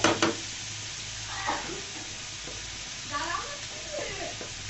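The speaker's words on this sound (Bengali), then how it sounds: "বন্ধুরা গাজরগুলোকে দিয়ে আমি সুন্দর মতো 5 মিনিট মতো ভেজে নিব তেলের মধ্যে।" Carrots fry in hot oil in a pan, giving a steady close sizzle with occasional stirring scrapes and a sharp knock at the start.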